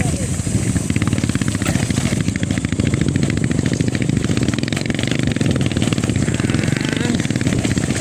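A motorcycle engine roars steadily up close for the whole stretch on a mountain trail ride at Mt. Oro, with rattling and wind rush, as if riding along.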